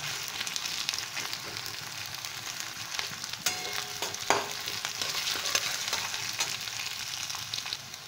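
Onion frying in a pan for a Bengali spiced aubergine and potato dish, a steady close sizzle with scraping stirs and a few utensil clicks near the middle, no talking.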